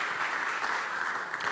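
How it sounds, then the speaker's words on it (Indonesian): A church congregation claps briefly during a worship service, a dense, even wash of applause that carries through the short moment without a break. "Kasih tepuk tangan yang meriah buat Tuhan."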